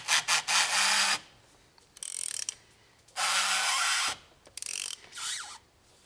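A ratchet wrench loosens the oil filter on a Renault Clio 2 1.5 dCi, making close, crisp bursts of rapid clicking in several separate strokes with short pauses between them.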